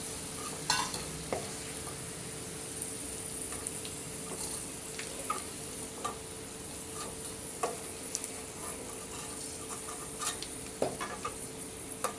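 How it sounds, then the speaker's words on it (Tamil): Sweet corn kernels fry in a pan, a soft steady sizzle broken by scattered small ticks and scrapes of stirring, faint and fairly distant, with no voices. "இதே மாதிரி எல்லா சோளத்தையும் ஃப்ரை பண்ணி எடுத்துக்குவோம்"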